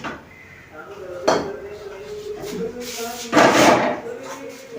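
Pots, pans and utensils clank and scrape in a home kitchen as lentils are started on the stove, with a few sharper knocks and clatters over a low background.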